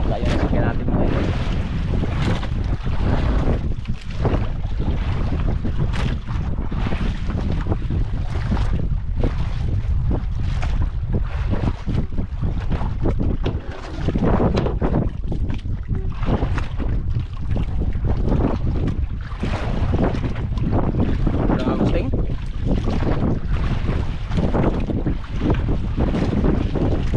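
Strong wind buffets a large fishing boat at sea in a steady, roaring rush with microphone gusts and wave wash, continuous throughout with no clear talk.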